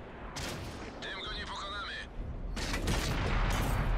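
Tank cannon shot and explosion in a video game: broadband bursts with a whining mechanical tone between them, then a heavier sustained boom and rumble, with a player's voice talking throughout.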